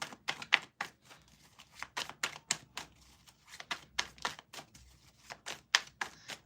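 Sharp, rapid taps and riffles in quick irregular bursts, like a deck of cards being shuffled close up, fairly quiet with no talking.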